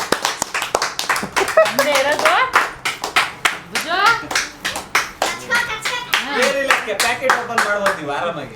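A group of people, including children, claps along during a family party game, with bursts of hand claps mixed with lively chatter and laughter throughout.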